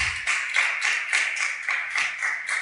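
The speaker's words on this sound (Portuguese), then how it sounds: "Você pode aplaudir o Senhor?" A church congregation claps in steady rhythm, about two claps per second, a loud, even, close-sounding beat with no voices over it.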